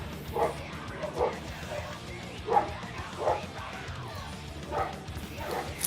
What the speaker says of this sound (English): There's a lot of barking dogs today.